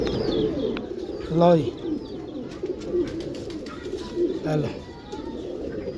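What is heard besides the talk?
pigeons cooing while being handled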